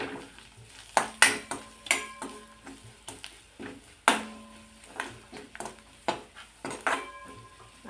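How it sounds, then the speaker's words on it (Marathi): Ground spices, including coriander powder and green chili, are stirred into a samosa potato filling in a pan, making irregular spoon clinks and scrapes against metal over a quiet, soft sizzle, close by and with no talking. "छान मिक्स करून घ्यायचं हे."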